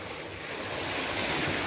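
Water pours steadily into a circular cement fish pond and swirls around it, a continuous broad rushing close by with no voices.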